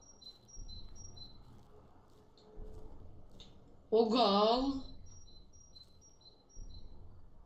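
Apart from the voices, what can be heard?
birds chirping in the video game Slender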